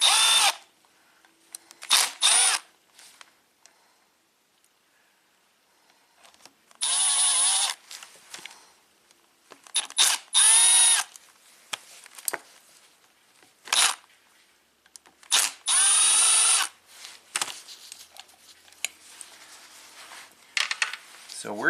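A power drill spins out the four carburetor bowl screws on a 1975 International 574 tractor, in several loud, close bursts of high whine separated by quiet pauses and handling noise.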